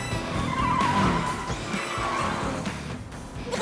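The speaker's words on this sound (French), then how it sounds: "c'est une mini-voiture qui fait des bruits de mini-voiture" A cartoon mini toy car from Polly Pocket revs and skids, with a sustained whining tire squeal and engine buzz that rises and falls, fairly close and loud, with no talking.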